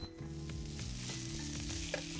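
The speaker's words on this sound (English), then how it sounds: "Reheat our vegetables really quickly" Vegetables reheating in a hot pan give a close, steady sizzle with crackling pops and the faint scrape of stirring, alone with no voices.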